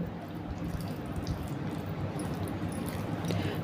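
Curd is mixed into cooked barnyard millet rice, a steady soft wet squishing and slopping that runs close and continuous throughout without talk.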